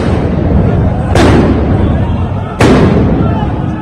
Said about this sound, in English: Israeli police fire stun grenades to disperse Muslim worshippers